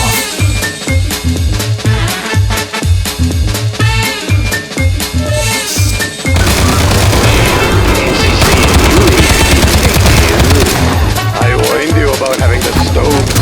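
Fireworks going off in a Half-Life 2 mod game, a rapid run of sharp crackling pops and bangs that thickens into a dense, loud barrage partway through, with game sounds mixed in.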